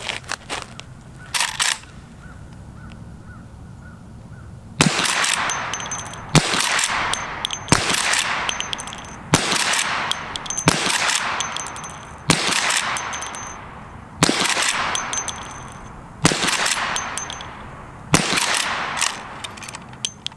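Henry Big Boy .357 lever-action rifle shots ring off a steel target in a quick series of about ten sharp blasts, each followed by a metallic clang and decaying ring, fired fairly fast outdoors.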